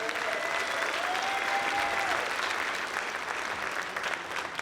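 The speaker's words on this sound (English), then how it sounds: "Let's give them a round of applause." A large audience at a school district convocation gives a sustained round of applause, a dense continuous roar of clapping hands filling the hall, steady and fairly loud throughout.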